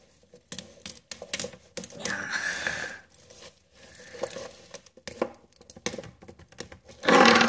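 A chocolate package is forced open by hand, with crinkly tearing, rustling and crackling of wrapper in irregular bursts close by, ending in a louder rip.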